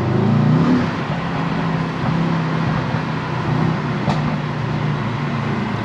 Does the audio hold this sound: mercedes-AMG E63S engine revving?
yes